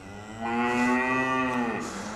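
A single long, loud moo from a dairy cow in a farm shed on an Irish farm, close and clear with a falling end.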